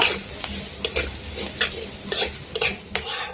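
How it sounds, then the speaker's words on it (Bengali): Chopped ginger, green chilli and curry leaves are stirred in a hot pan with mustard seeds, making a loud sizzling crackle with repeated spatula scrapes and knocks against the metal. "একটু সময় নেড়ে চেড়ে নিব"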